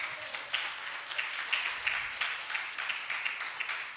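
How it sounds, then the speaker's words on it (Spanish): A church congregation applauds for the Lord during a service, a dense, steady wash of many hands clapping, moderately loud and sustained. "Dale un fuerte aplauso al Señor."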